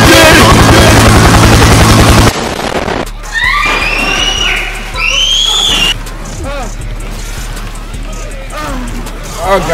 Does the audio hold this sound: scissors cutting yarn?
no